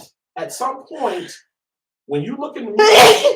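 A single loud sneeze bursts out near the end, preceded by a quick sharp inhale, with someone talking just before it.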